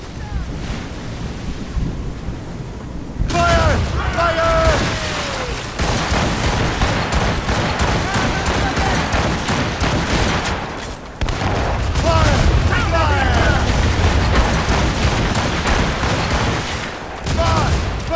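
Ship cannons fire volleys in Assassin's Creed Rogue, a loud rolling barrage of booms layered over wind and ocean surf, with several volleys in sequence as voices shout in between.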